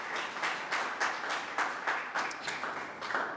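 Audience at a celebration event applauding, a steady wash of many hands clapping with rhythmic swells, moderately distant and continuous for a few seconds.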